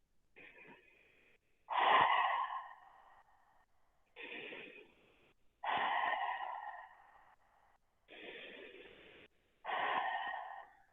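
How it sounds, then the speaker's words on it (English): Slow, audible breaths drawn in and let out during a seated forward-fold yoga stretch in a studio class, several long inhales and exhales in a steady rhythm, close and fairly soft, with no talking. "Breathing."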